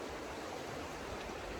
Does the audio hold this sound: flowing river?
yes